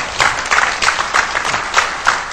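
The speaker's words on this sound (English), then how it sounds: "I assume you're applauding for scalar energy." Loud, close applause from an audience at a talk, with rhythmic, pulsing clapping that keeps up for a couple of seconds with no voices.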